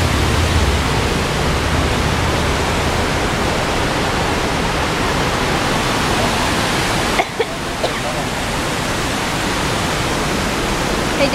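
Wenatchee River water rushing in a steady, loud broadband roar that fills the whole clip, with a brief dip and a couple of small knocks near the end.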